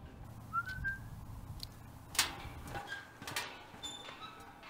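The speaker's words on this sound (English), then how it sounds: "it's more so the singing bridge, given that the winds causes a whistling noise" Faint, thin whistling tones from wind through a bridge on Grandfather Mountain, North Carolina, drift in and out over a low rushing breeze, with a few soft knocks and rustles nearby.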